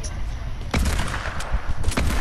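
Sniper gunfire in a video game, a few heavy shots punctuating a loud, busy background of other gunfire and rumble over a couple of seconds.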